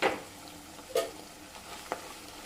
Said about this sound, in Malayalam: ഒന്നുകൂടി സോട്ട് ചെയ്തെടുക്കണം